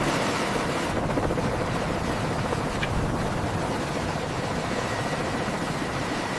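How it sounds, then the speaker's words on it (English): An AH-1Z Viper attack helicopter lifts off a tarmac, giving a steady, dense roar of rotor and turbine noise that holds level and loud throughout with no voices. "This is the AH1Z Viper, one of the primary aircraft utilized in this mission. It provides crucial support as it lifts off the tarmac."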